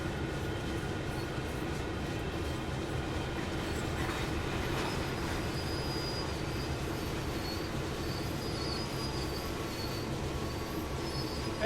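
Train shunting and coupling in the Train Sim World 4 game, set in a Toronto rail yard: a continuous rumble of rolling railcars with metallic clanks and faint wheel squeals, steady and close, with no talk.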